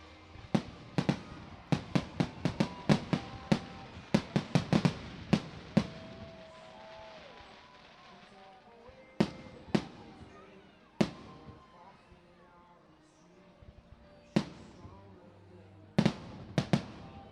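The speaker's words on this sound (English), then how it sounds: "Fireworks" Fireworks at a minor-league baseball playoff game, the Somerset Patriots against the Long Island Ducks: rapid bursts of sharp booming bangs, then sparser scattered blasts with crackling tails, under crowd noise and some voices.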